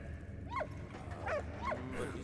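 A dog barks in short bursts, three or four sharp yelps spaced about a second apart in the Great War game Valiant Hearts, set against steady background game ambience.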